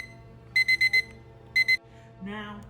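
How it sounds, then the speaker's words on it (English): A timer alarm goes off in two bursts of rapid electronic beeps, four quick beeps followed by three more, clear and fairly close, set over a low steady hum. "I'll now start the timer"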